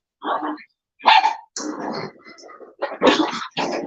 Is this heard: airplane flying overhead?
no